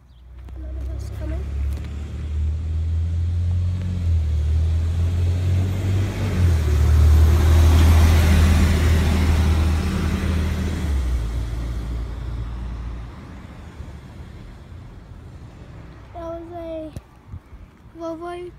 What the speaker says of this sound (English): Volvo B12BLE Custom Coaches CV60 Evo 2 school bus